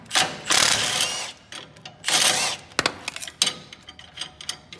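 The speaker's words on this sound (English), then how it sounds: "with my little Milwaukee fuel brushless impact wrench" A small Milwaukee Fuel brushless impact wrench drives leaf spring bolts on an FJ40 Toyota Land Cruiser in two loud, rattling hammering bursts, followed by scattered clicks and clanks.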